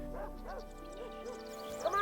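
Several dogs bark and yip in quick bursts close by at a home shared with many feral cats, with soft whimpering sounds between the barks and no speech.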